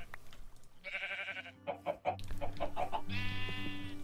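Blocky Minecraft chickens cluck in a short series of bursts on a farm, with a few mid-level calls standing out over the game's background sounds and no talking.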